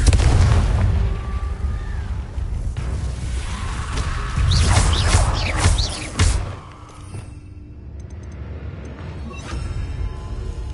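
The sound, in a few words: Confringo spell blast, from video game Hogwarts Legacy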